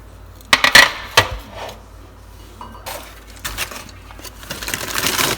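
Crispy air-fried shrimp tipped from the fryer basket into a bowl, giving a few sharp clinks and rattling scrapes up front, then softer scattered clatter and rustling as the pieces settle; close and alone, without talk.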